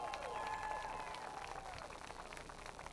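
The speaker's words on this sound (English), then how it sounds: "Let's give him another big round of applause." Crowd applause at a sprint car speedway victory lane during the Canadian Sprintcar Nationals, faint outdoor clapping and cheering over a tonal background hum.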